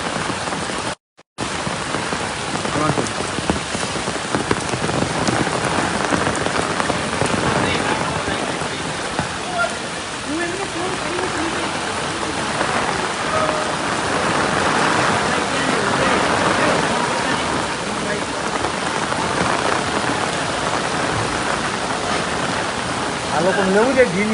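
Heavy rain pours steadily in Dwarka after sixteen inches fell in twelve hours, a dense, constant roar of water on surfaces with flooding nearby, continuing loudly throughout after a brief dropout near the start.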